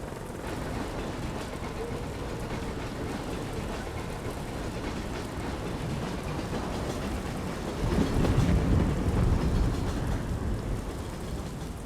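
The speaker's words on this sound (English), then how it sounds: "When the train arrives, get onto the train." A train rolls in during a cutscene from the video game Project IGI, a steady rumbling, clattering rail noise that grows heavier and louder near the end, with no speech.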